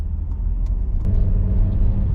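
A car drives along with a steady low engine and road rumble, close and continuous for a couple of seconds, with brief faint clicks over the hum.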